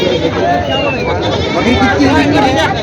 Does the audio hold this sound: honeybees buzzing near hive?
no